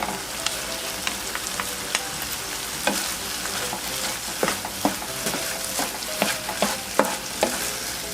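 Ingredients stir-fried in a pan until dry with sweetener added, a steady sizzle broken by frequent sharp scrapes and clinks of a spatula against the pan, close and fairly loud with no talking.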